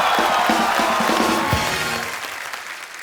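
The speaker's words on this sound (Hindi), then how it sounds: "जोरदार तालियां" A television comedy show studio audience claps and cheers loudly, with shouts over the applause that gradually fades and quiets toward the end.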